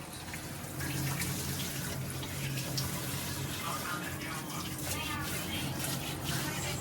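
Green chickpeas being washed in water, a continuous running and splashing sound of moderate loudness with water pouring steadily, while people talk over it.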